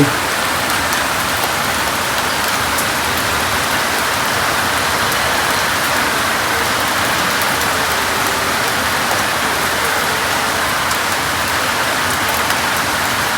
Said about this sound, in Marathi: फार पाऊस खूप जोरात पाऊस आहे